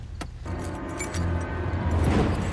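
A bunch of keys jingles and clatters as it is dropped, heard over a continuous low rumble of a car or engine in the background.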